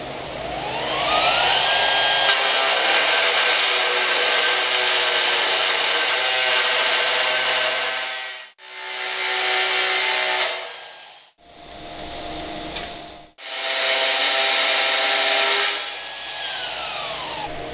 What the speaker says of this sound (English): Now we'll perform a 45 degree bevel.